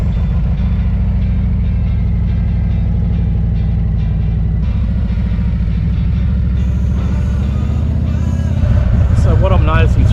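A 2024 Harley-Davidson Road Glide fitted with a tall touring windscreen rumbles at low speed with a steady deep engine drone, rising toward the end, while a rider speaks over it throughout.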